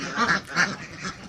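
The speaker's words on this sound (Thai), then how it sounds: "เป็ด" Khaki Campbell laying ducks of the CP breed quack on a farm, two or three distinct loud calls close by, followed by softer overlapping quacks from the flock.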